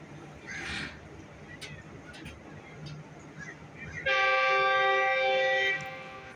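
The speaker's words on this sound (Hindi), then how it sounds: "दोबारा हॉर्न हुआ है जी और ट्रेन चल पड़ी है।" A loud, sustained train horn blares for a couple of seconds over rumbling rail noise as the train departs, with crows cawing and a brief voice earlier.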